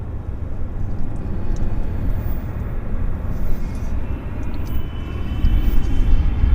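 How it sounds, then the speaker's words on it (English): Steady, heavy low rumble of an Air Canada Boeing 777-200 taxiing onto runway 26 left at Vancouver airport, a continuous broadband engine roar heard from some distance that swells slightly toward the end. "Air Canada 34, 777-200. Nosing on to the active, runway 26 left here at YVR."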